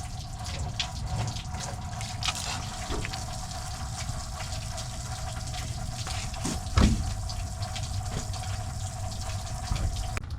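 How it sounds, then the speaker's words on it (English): Water runs steadily out of a camper's fresh water tank drain with a constant trickling rush, close by, and a brief knock partway through. "open up my fresh water holding tank and let this thing drain"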